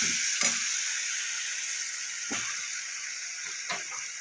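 Spices sizzle in a pan for a Bengali-style egg curry, a steady, fairly loud hiss with a few sharp clinks and scrapes of a spoon against the pan, and no talking.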